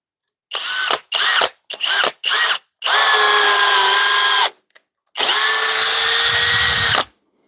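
A Flex compact cordless drill whirs in four short bursts, then two longer steady runs as it drives a screw in drill mode, close and loud with brief pauses between.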